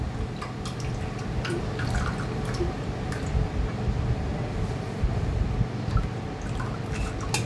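Soaked wheat milk (chik) for kurdai is strained, giving a continuous liquid trickle and dripping with small splashes and clinks, steady and close.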